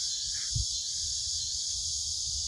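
Cicadas buzz in the woods as a steady high, continuous drone throughout, with faint low rustling and a brief soft thump beneath, and no talking.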